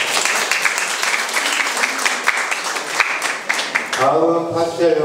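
Audience applause at an award ceremony for a pastel art society exhibition opening in a gallery, dense steady clapping for about four seconds before a voice begins speaking over the fading claps.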